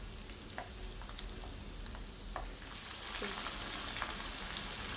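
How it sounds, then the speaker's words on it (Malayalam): Chicken 65 pieces frying in hot oil in a home kitchen, giving a steady close sizzle with occasional pops and a stirring clink, no talk. "വീണ്ടും ഓയിലിലേക്ക് ഇട്ടിട്ട് നന്നായിട്ട് ഒന്ന് ഫ്രൈ ചെയ്തെടുക്കണം"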